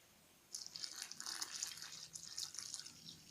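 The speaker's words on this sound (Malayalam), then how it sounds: "ഇതിലേക്ക് നമുക്ക് ഉരുക്കി വെച്ചിരിക്കുന്ന ശർക്കര പാനി ഒഴിച്ചു കൊടുക്കാം." Melted jaggery syrup poured into a wheat flour mixture for unniyappam, a soft trickling, splashing liquid stream starting after a brief pause and continuing unevenly, faint and close.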